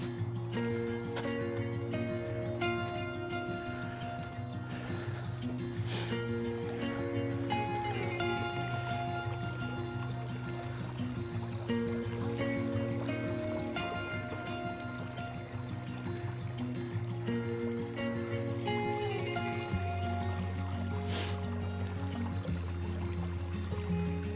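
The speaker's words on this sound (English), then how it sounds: "Running water is always a pleasant sound." A small stream runs beside a hiking trail in a state park, its steady trickle and splash continuing without a break and heard close by, with no one talking.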